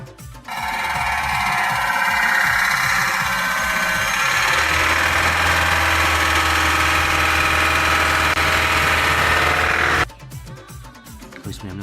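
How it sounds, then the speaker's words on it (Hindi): An Eicher truck engine with a fault at the pistons runs loud and steady for about ten seconds, a harsh broadband mechanical roar with a low hum. It then cuts off abruptly, leaving quieter background noise. "बहुत आवाज़ आ रही थी इंजन से पिस्टन पे"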